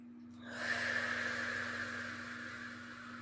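A slow, deep breath during a guided meditation: a single soft, airy exhale swells in and then fades gradually over a faint steady hum, quiet and close.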